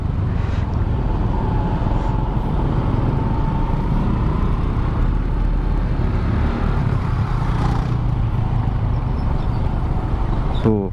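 Steady, dense road noise from a jammed main road in Bekasi, with a constant low rumble of idling cars and motorbikes close by and a passing vehicle swelling briefly, heard from a rider on a Suzuki Smash 110 motorcycle.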